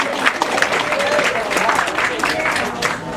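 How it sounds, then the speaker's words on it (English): A group claps together in a fitness class, a dense burst of hand claps close by, with voices mixed underneath throughout. "give yourselves a round of applause"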